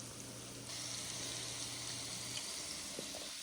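Chilaquiles frying in a pan on the stove, a soft steady sizzle with a low hum underneath, faint and unbroken for a few seconds.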